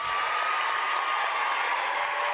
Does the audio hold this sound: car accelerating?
no